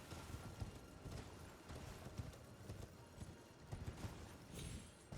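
Horse hooves clip-clop in a steady galloping rhythm within the Elden Ring video game, fairly close and continuous, with a brief whinny and game ambience underneath and no talking.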